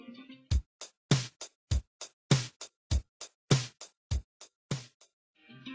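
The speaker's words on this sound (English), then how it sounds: "In pop music, the rhythm is typically expressed by one dominant drumming pattern," A typical pop music drum pattern plays alone: punchy kick and snare hits in a steady, evenly spaced groove, about a dozen strikes over a few seconds, with a brief tonal fill at the very end.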